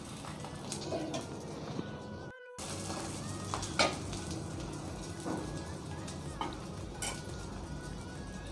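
A drumstick leaves omelette sizzles steadily in a pan, with a few clinks and scrapes of a spatula during the flip and a brief dropout partway through.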